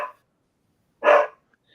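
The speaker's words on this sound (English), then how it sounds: "hold on till I just stop these dogs from barking" A dog gives a single loud, close, sharp bark, with another bark just cut off at the very start and nothing else around it.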